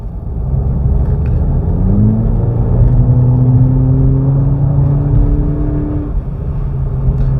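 A 2022 Volkswagen Polo GTI with a 7-speed DSG drives along, its engine a steady close rumble with a rising whir as it pulls through the gears, loud and continuous without talk.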